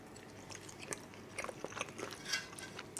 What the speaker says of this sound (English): I'm going to go ahead and have a little nibble just so you can hear a little bit of ASMR.